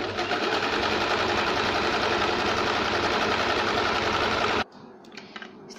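A close, loud sewing machine runs continuously while joining blouse fabric to its lining, a dense steady whir for several seconds that cuts off abruptly, followed by faint handling noises.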